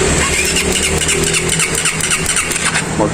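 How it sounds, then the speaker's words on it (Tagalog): A motorcycle engine that will not start grinds and sputters loudly and continuously at close range, with a rough, uneven churning that never settles into a clean idle. "Ayaw talaga umandar kahit anong gawin natin."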